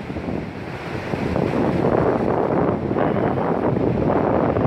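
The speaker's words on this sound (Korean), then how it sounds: "눈으로 보면 지금 무서울 정도로 파도가 높이 치고 또 그 물거품은" Big waves crash against the snowy east coast at Sokcho, South Korea: a loud, continuous roar of surf mixed with heavy wind buffeting the microphone, swelling slightly partway through and holding steady with no voices.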